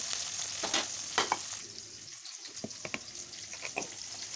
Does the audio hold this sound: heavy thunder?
no